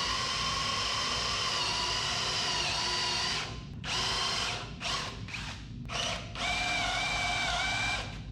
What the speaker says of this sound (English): take a piece of wood and drill a hole